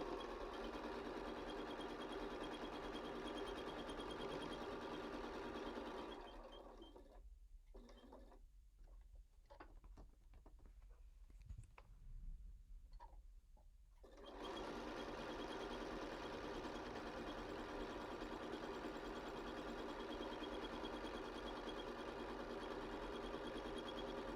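A sewing machine runs continuously while backstitching a pillow seam for a square-in-a-square pillow, its steady mechanical whir pausing briefly for a few clicks and handling sounds before stitching resumes at full speed.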